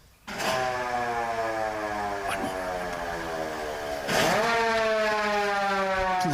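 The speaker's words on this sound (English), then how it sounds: "The siren still works too, folks." A mechanical siren wails steadily, its rising and falling pitch sweeping loudly, then surging higher again as it winds up.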